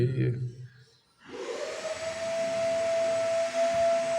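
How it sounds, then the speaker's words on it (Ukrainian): A budget voltage tester held near a live cable gives a steady, high electronic whistle that rises after a brief pause and holds continuously over low background hum, close by. "свистить, годить показує, що є фаза чи нема"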